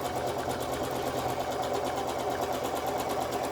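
A Bernette B77/B79 sewing machine runs fast and steady during free motion quilting, its needle producing a rapid, even mechanical chatter that holds without a break.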